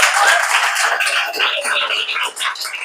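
Children clap together at an Easter Bible lesson, a brief burst of quick, uneven clapping, bright and close, with voices mixed in.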